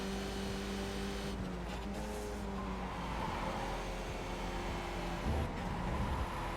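A race car engine drones steadily in a racing video game, a continuous loud motor tone with shifting pitch and a brief rise near the end, with no talking over it.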